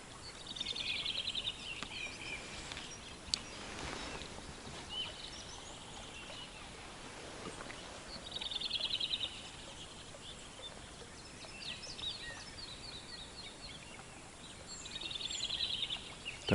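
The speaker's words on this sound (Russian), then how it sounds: "Так громко птицы поют." Birds singing in a spring forest during snowmelt, bursts of high chirping calls coming and going over a constant rushing water background, fairly distant and soft.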